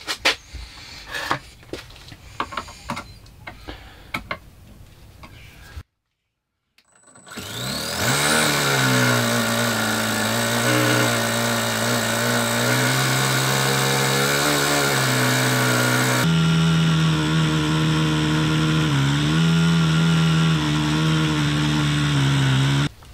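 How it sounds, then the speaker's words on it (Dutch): After a few clicks and a silent gap, a homemade small engine on a starter and ignition panel catches and settles into a loud, steady close-up running drone, shifting pitch slightly partway through. "Maar laten we de motor eens even starten."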